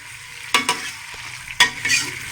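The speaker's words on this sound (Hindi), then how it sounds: "हल्का सा इसको फ्राई करना है।" Potato and eggplant frying in ghee in a pressure cooker, a soft steady sizzle broken by a few sharp stirring scrapes, near and without talk.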